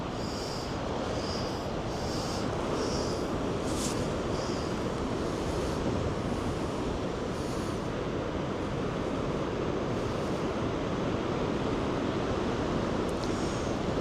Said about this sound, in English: Just hearing those waves crash off the shore